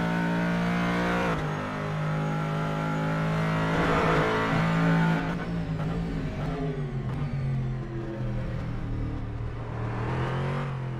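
A Callaway Corvette C7 race car in the rFactor 2 racing simulator laps Sebring, its engine droning loudly and continuously with rising and falling revs and gear changes, with no talk.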